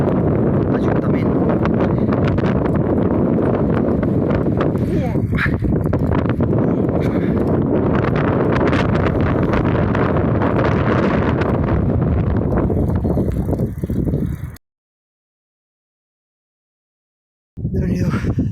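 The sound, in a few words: strong wind blowing while cycling uphill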